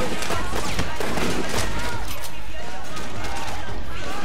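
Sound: gunfire from Winston's gun in the video game Sleeping Dogs

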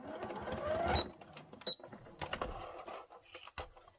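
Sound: sewing machine stitching and backstitching fabric

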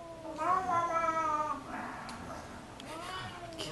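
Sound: cat making a terrifying noise

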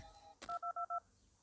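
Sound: phone sound in Five Nights at Candy's 2 video game

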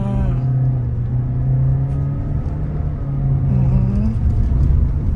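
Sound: car driving, accelerating to 60 km/h

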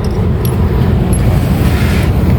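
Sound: air conditioner compressor motor starting and running

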